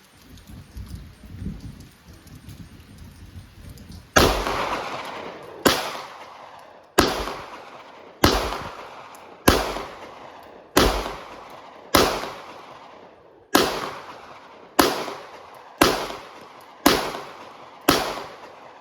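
Fourteen or so sharp pistol shots from an old Beretta 92S, fired outdoors in rain and fog at a target 50 yards away, follow a few seconds of quiet, coming at a steady pace of roughly one per second with short echoing decays.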